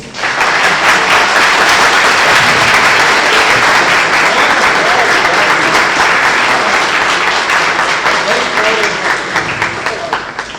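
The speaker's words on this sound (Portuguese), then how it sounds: "Gostaria de uma salva de palmas." Sustained audience applause at a round-table panel on the job market, a dense, steady wash of many hands clapping for about ten seconds. It is loud throughout and thins slightly near the end, with faint voices mixed in.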